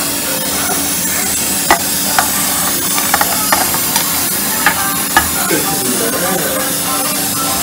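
Coconut, green chillies, cashews, curry leaves, coriander and ginger fry in a pan with a loud, continuous sizzle, broken by scattered sharp crackles and pops and the occasional scrape of stirring.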